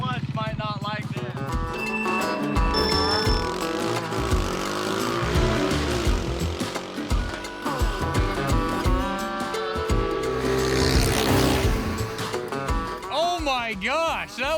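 A supercharged mini Jeep races a van, engines revving hard and rising through gears with tire noise, close and loud, while people shout and talk over it.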